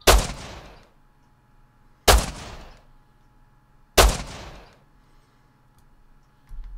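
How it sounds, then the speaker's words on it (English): Three loud, sharp gunshots from the video game Rust, evenly spaced about two seconds apart, each with a short decaying tail over a faint background hum. "Are you shooting at them, Sam?"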